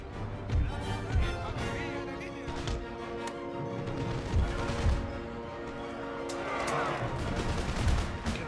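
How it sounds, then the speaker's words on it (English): Volleys of musket fire from grenadier regiments crackle across an Empire: Total War battlefield, scattered reports and rolling fusillades overlapping with battle ambience and music, with a voice talking briefly over them. "My own first grenadier regiment is going to start popping off some shots."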